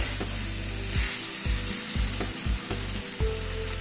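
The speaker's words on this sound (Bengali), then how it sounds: "দইয়ের মিক্সচারটা দিয়ে আরো 3-4 মিনিট একটু নাড়াচাড়া করে নিলাম।" Mutton stirred and fried with a yogurt mixture in a pan, a constant close sizzle under repeated scraping spatula strokes and light clinks at an irregular rhythm, with no talking.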